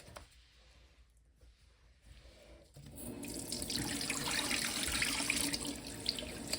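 After a quiet start with faint trickling, a faucet opens about three seconds in and water runs steadily into a sink until the end, rinsing an oil-rubbed bronze fixture.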